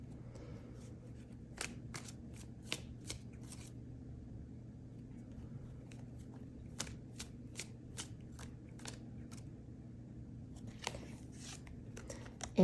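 Tarot cards being shuffled and pulled: quiet, close, crisp card flicks and snaps in a rapid irregular series, then a pause and a few more card sounds, over a low steady hum.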